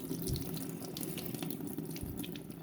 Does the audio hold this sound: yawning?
no